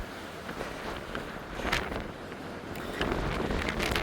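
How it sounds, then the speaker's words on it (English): Wind gusts roar directly across the microphone on a hiking trail near a mountain top, a loud continuous rumble that swells around the middle and again toward the end. "Be a good test of wind on the microphone."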